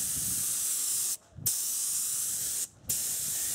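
Touch-up coat of Rust-Oleum Gloss White spray paint on a vintage Shasta camper trailer: a loud, close, continuous aerosol hiss, broken by two brief pauses where the nozzle is released.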